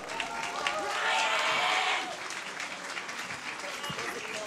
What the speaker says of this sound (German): Einen deftigen Applaus für Ryan Stecken!